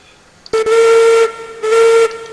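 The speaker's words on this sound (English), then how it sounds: "And that was a terrible whistle, but a whistle nonetheless." Two loud, shrill steam locomotive whistle blasts from the video game Railroads Online, the first longer and the second after a short pause, with a brief hiss before they begin; no voices.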